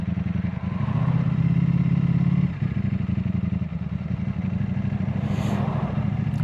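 A motorcycle ridden along an open road, its steady mid-pitched engine drone close and continuous throughout, with a brief dip partway through before the engine note settles back to a constant hum.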